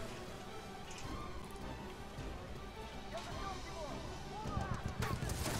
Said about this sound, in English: Oh my god, this is gunfire,